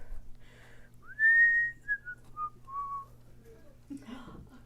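A person whistles a short tune alone, a few clear sustained notes that rise, then step downward in brief phrases, with a faint low sound near the end.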